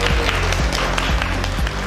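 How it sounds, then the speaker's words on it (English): A crowd applauds with dense, continuous clapping at close range, loud and steady for the full two seconds, with a few cheers mixed in. "Everyone give him a round of applause."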